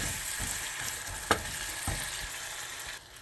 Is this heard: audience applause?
no